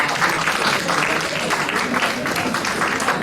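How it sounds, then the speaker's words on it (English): Steady, full applause from a student and faculty audience at a college business plan demo day, dense clapping of even loudness with faint crowd murmur mixed in. "Can we have a huge round of applause for the speakers?"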